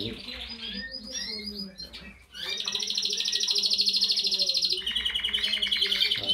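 Canaries kept for breeding sing throughout an aviary, soft varied chirps at first, then after a brief pause a loud, close, rapid trill that runs on continuously with other birds twittering underneath.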